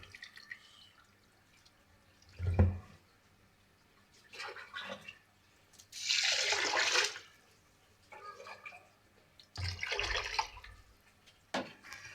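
Rice grains being washed in water while making rengginang cikur, a kencur-flavoured rice cracker, with several separate bursts of splashing and pouring in a quiet kitchen and no talking.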